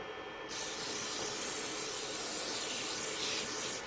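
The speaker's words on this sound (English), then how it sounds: "All I use is Aquanet, the cheapest I can find, and I just spray it on there" A steady, close aerosol spray of Aqua Net hairspray onto a 3D printer build plate hisses continuously after a brief quiet start, broadband and loud, with no talking.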